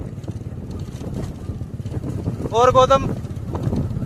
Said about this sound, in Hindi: हवा चल रही है ना, बाइक से चलते हैं तो हवा चलती है